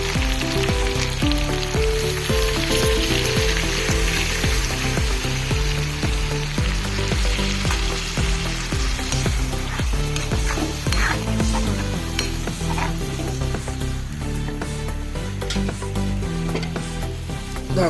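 Potatoes and chicken pieces for a dhaba-style masala chicken fry in a pan, a loud continuous sizzle broken by repeated scraping stirs throughout, no talking.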